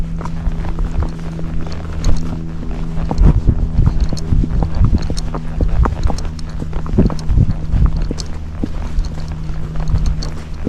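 A Missouri Fox Trotter's hooves clop steadily along a Folsom Lake trail, a close, continuous rhythmic clip-clop with light wind noise running underneath throughout.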